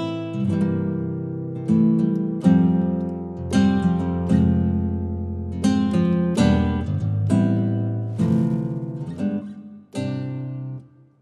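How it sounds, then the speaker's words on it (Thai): Chords strummed on a guitar voice of a Yamaha PSR-SX700 arranger keyboard, with ambient tone and string-slide effects: a steady run of bright, ringing strums at a regular rhythm, close and fairly loud, without talk. "เสียงเขาเรียกว่าเสียงแอมเบียนต์เวลาคุณดีดคอร์ดปุ๊บแล้วก็เสียงลูดสายแบบนี้นะฮะ"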